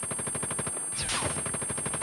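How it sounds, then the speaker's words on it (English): Rapid automatic fire from a hostile sentry gun in a video game, a dense, steady burst of shots running throughout with a brief gap and a louder flare partway through. "Be advised, hostile sentry gun spotted."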